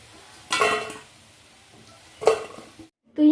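Fried soybean chunks for a taro and soybean curry are scooped out of hot oil into a pot: two bursts of metal scraping and clinking over a faint sizzle, with a short gap between them, then a final louder clatter.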